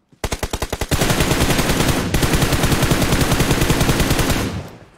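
Rapid automatic gunfire in a video game, starting as a quick string of distinct shots and then merging into a loud, continuous spray that runs for several seconds before cutting off.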